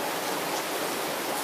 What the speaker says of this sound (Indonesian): lihatlah hujan ini